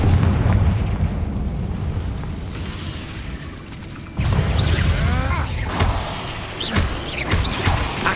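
Confringo blasting-spell explosions in the video game Hogwarts Legacy: loud, rumbling booms and sustained crackling blasts with a sharp fresh burst midway, followed by whooshing, fizzing spell effects, with no talking.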